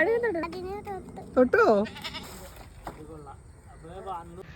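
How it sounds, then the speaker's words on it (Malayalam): Goat at a village waterside bleats in several wavering calls, loud and close at first, then fainter later on, mixed with people talking nearby. "ആടിനെ നോക്കി"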